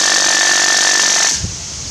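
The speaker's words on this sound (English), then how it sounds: "Definitely a loud drill." A rotary hammer drill runs with a loud, steady power-tool whine and a high-pitched tone, then cuts off abruptly, leaving a quieter rumble behind.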